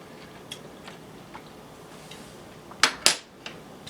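A metal spoon clinks twice against a cooking pot while homemade sauce is being tasted, two quick close taps in a quiet kitchen with a few faint softer knocks around them.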